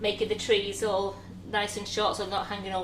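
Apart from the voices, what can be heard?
No everyday noises stand out.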